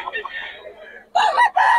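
Chickens at a market in Bocaue call out loud and close, with a softer clucking stretch followed by two sharp bursts of crowing.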